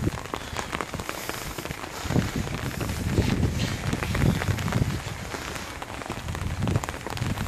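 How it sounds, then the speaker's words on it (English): Steady outdoor rain pattering on surfaces, a dense continuous hiss with scattered nearby drops and a little wind noise, no voices. "Rain runs from the sky."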